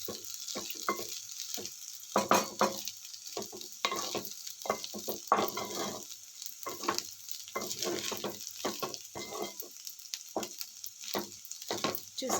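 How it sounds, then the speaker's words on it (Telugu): A spoon stirs semiya upma with salt in a pan, producing repeated scraping strokes at an uneven, unhurried rhythm over a soft sizzle, close and clear with no talking. "సాల్ట్ వేసుకొని నెమ్మదిగా తిప్పుకుంటున్నామండి."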